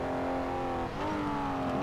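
A 1990s Formula 1 car engine in the Toca 3 racing game revs high and steady, dipping briefly at a gear change before climbing again, loud and continuous.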